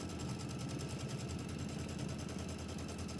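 A sewing machine stitching pillow pieces together, running at a steady fast whir with a rapid, even mechanical chatter throughout.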